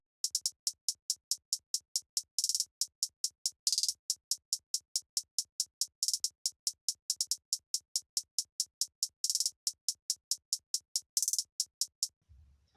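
A programmed hi-hat pattern in FL Studio 20 plays alone as a fast, even stream of crisp ticks, with louder open accents at regular intervals and a low thump near the end.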